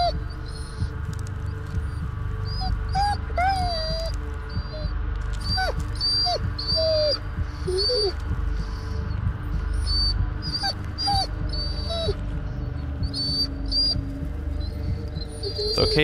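A dog whimpers in short high whines through a dark ambient hum in the video game Blair Witch, with a soft throbbing heartbeat-like pulse beneath and repeated faint cries scattered across the clip.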